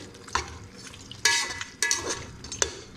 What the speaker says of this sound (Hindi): इसको अब हम थोड़ी देर के लिए भुनेंगे।